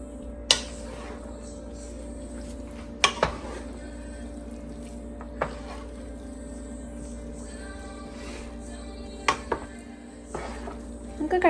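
Prawn biriyani is stirred in a metal pot, with scattered clanks and scrapes of a spoon against the pot at irregular moments, close and fairly quiet, over a steady low background hum.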